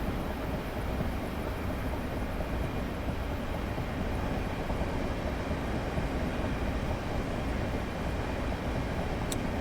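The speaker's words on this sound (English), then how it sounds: "So I thought I could hear another train." A continuous low rumble and rattle of a Class 465 Networker train running steadily nearby on the Chatham Main Line in Train Simulator 2019, dense and unchanging throughout, with no talking.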